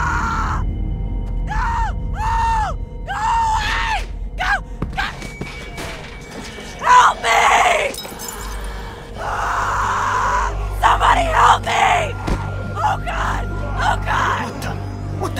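A girl screams in The Walking Dead video game, short repeated cries followed by louder, harsher yells, with game sounds and a low background rumble throughout.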